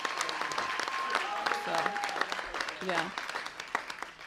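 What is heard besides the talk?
audience applause at a sports banquet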